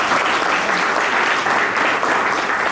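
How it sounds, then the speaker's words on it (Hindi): Dense, steady applause from an audience at a hiking group's anniversary meet-up, continuous and loud throughout. "तो एक बार तालियां तो बनती है।"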